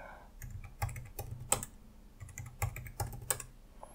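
A root password is typed on a computer keyboard in a quiet room. The keystrokes are soft, close and irregular, with a few sharper taps in quick succession.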